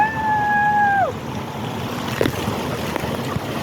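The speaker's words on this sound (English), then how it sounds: "I am on this water slide." A ride down an indoor water slide at Great Wolf Lodge, rushing water and wind-like noise after a voice-like tone at the start, with a few splashing bumps, fairly loud and continuous.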